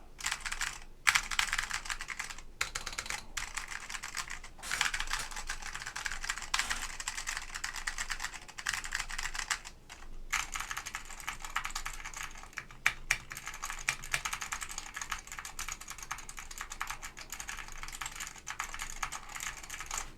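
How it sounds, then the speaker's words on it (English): Typing on a Frog Mini Ligera keyboard with green linear Alps switches and an aluminum plate: continuous quick keystrokes clatter up close in an uneven rhythm, with a few brief pauses and no talking. "So this is my Frog Mini Ligera with green linear Alps, which are pretty cool."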